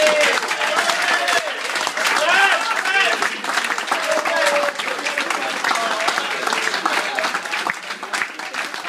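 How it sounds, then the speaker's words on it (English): Crowd applauding at a farewell gathering, loud sustained clapping with cheers and whoops mixed in, voices calling out over the applause. "So a huge round of applause, please, for Peter."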